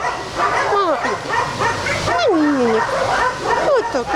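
A three-month-old puppy rescued from the street in Kramatorsk whimpers and yips in high, rising and falling cries, with people talking at the same time.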